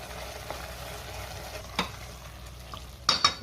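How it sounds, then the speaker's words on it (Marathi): Chicken kheema mixture with onion paste stirred in a pan: a low, steady sizzle of frying under a few soft scrapes of a spoon, with a sharper clatter near the end. "कांद्याची पेस्ट घालायची आपल्याला। पाणी न घालताच मी ही कांद्याची पेस्ट तयार करून घेतलेली आहे आणि पुन्हा सगळं व्यवस्थित मिक्स करून घेऊया।"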